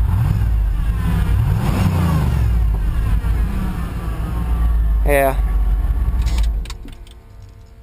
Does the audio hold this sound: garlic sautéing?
no